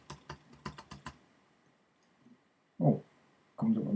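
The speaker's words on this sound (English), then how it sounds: "If you start typing in," Quick clicks of a computer keyboard being typed on, about eight keystrokes in a burst, then quiet, then a couple of louder thuds.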